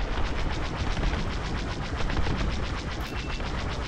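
Rapid bursts of laser cannon fire from a starfighter in Star Wars Squadrons, a steady, loud, rhythmic stream of repeated shots filling the whole stretch with no voices.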